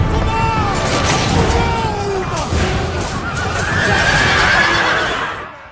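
Cavalry horses in the Total War Rome II video game, with loud whinnies and neighs rising over a dense, continuous battle din and faint hoof clatter, with background voices and shouting.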